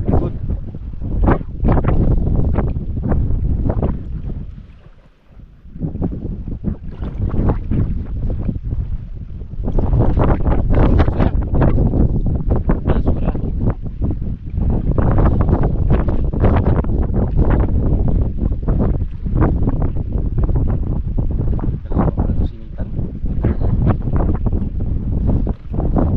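Wind blowing over open water, a loud, gusty rumble buffeting the microphone almost without pause, easing briefly before surging back.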